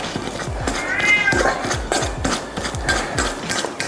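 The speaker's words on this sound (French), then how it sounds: "Si vous entendez un chat derrière, bah ouais, c'est le chat." A house cat meows repeatedly in a kitchen while a banana cake is being made, with several drawn-out cries over a background of rhythmic clatter and light bumping.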